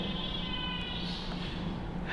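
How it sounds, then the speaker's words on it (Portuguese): Kittens meowing nearby in a classroom setting, a continuous high, wavering cry lasting the whole moment, fairly loud over background room noise. "tem os gatinhos fazendo barulho ali"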